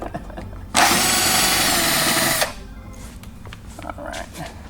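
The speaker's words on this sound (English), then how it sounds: "It's just two flathead screws here, and we'll get those off." A power drill backs two flathead screws out of the rear panel of a 122 Leslie amplifier, one loud continuous whirring burst lasting under two seconds, followed by quieter handling clatter.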